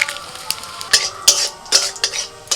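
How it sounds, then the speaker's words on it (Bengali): Whole spices, bay leaf, dried red chilli, cardamom, cinnamon, cloves and cumin seeds, crackling in hot ghee and oil, with irregular sharp pops and faint sizzle close by, amid light clinks of a stirring spoon. "তেলের মধ্যে দিয়ে দিচ্ছি ঘি ফোড়নে দিচ্ছি তেজপাতা শুকনো লঙ্কা এলাচ দারচিনি লবঙ্গ গোটা জিরে"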